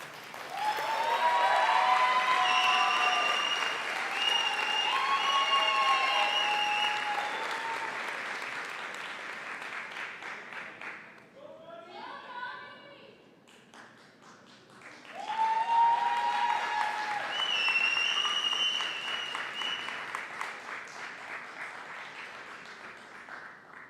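Graduation audience at a Bishop's University ceremony applauding the class of 2022 valedictorian, a loud sustained wash of many hands clapping that fades into a brief lull near the middle, then swells again to full strength.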